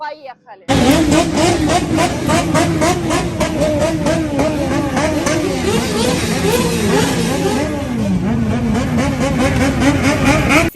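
Racing motorcycles roar at the Spanish motorcycle Grand Prix at the Jerez circuit, a loud, continuous engine howl whose pitch rises and falls as bikes rev and pass, with voices heard under the din.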